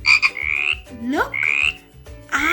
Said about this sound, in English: I found a red-eyed frog.